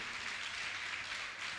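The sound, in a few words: applause honouring donors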